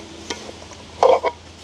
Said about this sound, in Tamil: அவிச்சு எடுத்து வச்சிருக்கிற பயிரை வந்து சேர்த்துக்கொள்ளுவோம். நல்ல வடிவாக கலந்து விடுவோம்.